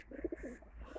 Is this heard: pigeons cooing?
yes